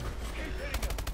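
Rapid pistol gunfire in the video game Advanced Warfare, a quick burst of several sharp shots in the last third, following a steady game soundscape.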